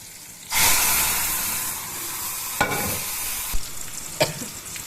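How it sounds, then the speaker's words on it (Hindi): Onions hit hot oil meant for fish roe, giving a loud burst of sizzling that settles into a steady frying hiss, with a few sharp clicks of stirring against the pan. No one speaks. "मछली के अंडे के लिए मैंने तेल गर्म कर रखी है, इसमें प्याज डाल दूँगी और इसको हल्का सा ब्राउन होकर भी भून लेंगे।"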